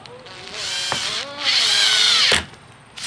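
A power drill drives screws into pilot holes while installing a MaxxAir roof vent fan on a Dodge Sprinter van, making two close whirring bursts that rise in pitch with a brief pause between.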